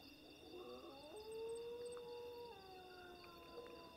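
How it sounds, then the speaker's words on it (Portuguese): Wild wolves howl at night, picked up by a microphone placed on the ground: several long, wavering howls overlap and rise and fall together, distant and faint over a steady background hiss. "E são mesmo lobos."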